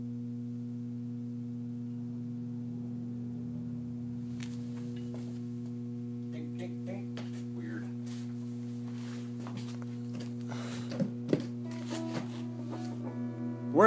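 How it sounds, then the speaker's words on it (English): Steady low electrical hum with strong harmonic bands from a single-ended tube amplifier, continuous throughout, joined partway by faint ticks, clicks and small handling noises close by. "Well, that's a hum."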